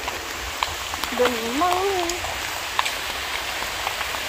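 Rain falls at a zoo in Melaka, a steady broadband hiss throughout, with a person speaking briefly over it midway.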